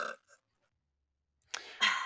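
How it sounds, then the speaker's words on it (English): A short burp from a young man at the close of a casual sibling chat, one brief throaty belch followed by a sharp second burst after a moment of silence, close and fairly loud, with no talking. "please edit out the burp"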